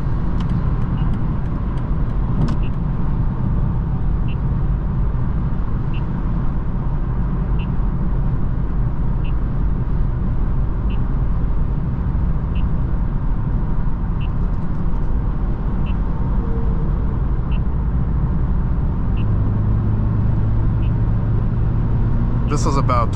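A 2024 BMW 330i xDrive cruises at light throttle, its steady low engine and road rumble running continuously at close range, with talk from inside the cabin over it.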